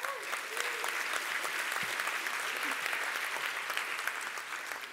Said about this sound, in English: Like by applause, stay for longer